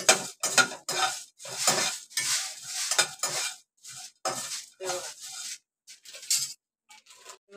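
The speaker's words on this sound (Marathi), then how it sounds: "लवंग, लवंग भाजून घेते." Cloves dry-roast in a pan for homemade Malvani masala, with a spoon stirring and scraping in short, clattering bursts separated by brief quiet gaps and faint clinks of metal.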